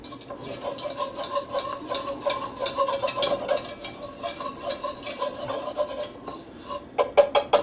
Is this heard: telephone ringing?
no